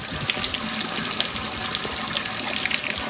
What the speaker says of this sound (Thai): น้ำไหลลงมาแบบนี้เลย